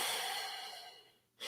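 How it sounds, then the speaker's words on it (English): Slow, deliberate breaths during a calm breathing demonstration, one long exhale fading out before a fresh breath begins, close and soft with no talking. "And then 3 breaths normal"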